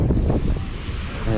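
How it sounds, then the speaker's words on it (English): Wind at a beach buffeting the microphone, a brief burst of loud, low gusty rumble mixed with surf-like wash, no talking. "And it's windy today."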